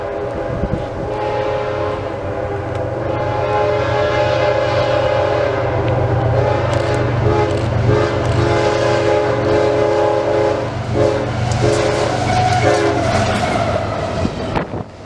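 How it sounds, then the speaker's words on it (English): A short CSX Q009 intermodal train led and trailed by GEVO locomotives speeds through a station, a loud, close rumble of wagons with repeated horn blasts layered over it. "This train was very short today, and they were also flying through the station, with a GEVO on the front and another GEVO on the end"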